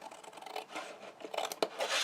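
Scissors snip and rasp through folded card along score lines while a small gift box is being made, giving a soft, close, papery cutting sound in uneven strokes with a sharper snip near the end.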